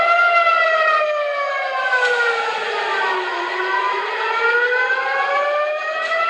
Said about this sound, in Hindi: इजराइल में एयर अटैक के सायरन गूंजते रहे।